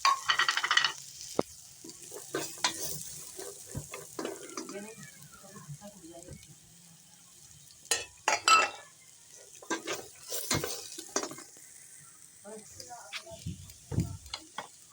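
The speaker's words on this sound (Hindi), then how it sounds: "हरी मिर्च भून लेंगे हम हल्की सी" Shredded cabbage, carrot and green chilli sautéed in a pan, with soft sizzling and intermittent scraping and clinking stir strokes, some louder bursts in the second half, and a voice talking at times.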